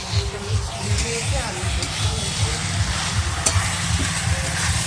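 Chicken curry meat cooking in a pan in a home kitchen, giving a steady broadband sizzle with stirring, layered over a pulsing low background hum throughout.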